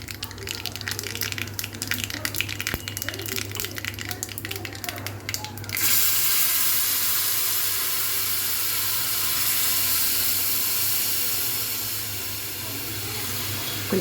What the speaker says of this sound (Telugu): కొంచెం జారు కడిగేసుకోద్దాము.